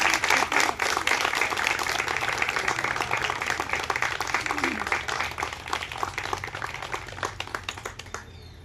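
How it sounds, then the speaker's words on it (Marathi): A group of people clapping for a candidate during a classroom training game, a dense burst of applause that starts loud and gradually thins out into scattered, fading claps. "उमेदवार आलाय, टाळ्या वाजवा जरा."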